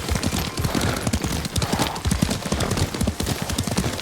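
A horse gallops in the video game Ghost of Tsushima, with steady, rapid clip-clop hoofbeats close and fairly loud over a continuous rushing background.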